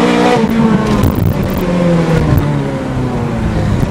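A Ferrari 430 Scuderia engine pulls hard under acceleration from inside the car on a ride, a loud continuous roar whose rising harmonics climb steadily through the gears for the full stretch with no talk over it.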